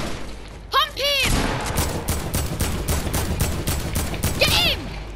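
Rapid game gunfire with shotgun blasts crackles in a dense burst of evenly spaced shots, loud and close, while excited voices shout over the top.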